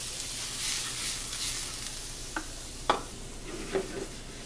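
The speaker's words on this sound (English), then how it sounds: "So we got some extra virgin olive oil. We're going to throw in some diced onions." Diced onions and fennel frying in extra virgin olive oil, a steady sizzling hiss punctuated by a few distinct spoon or spatula clicks and scrapes near the end, close up.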